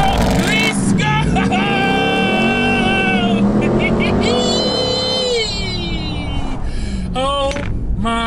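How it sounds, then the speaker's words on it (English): A 2021 Ram TRX pickup truck launches from a brake-held start at full throttle, its engine roaring loud and close with rising revs and gear shifts, while someone talks excitedly over it. "what you do is go full brake, full throttle, release the brake"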